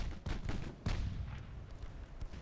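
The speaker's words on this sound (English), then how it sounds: "Open up with the 3-inch guns." 3-inch naval guns on a light cruiser firing during a sea battle in Ultimate Admiral: Dreadnoughts, several booming shots spaced unevenly over two seconds, fairly faint and distant over a steady rumbling background.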